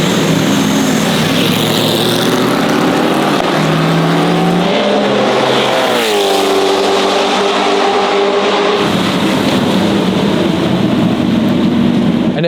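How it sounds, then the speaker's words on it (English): A rare Lotus Elise GT1 race car, run by a Dutch racing team at the Espiritu de Montjuic event, roars loudly and close, its engine note climbing and dropping through gear changes and a sweeping pass, with no talk over it. "they were driving their Lotus Elise GT1"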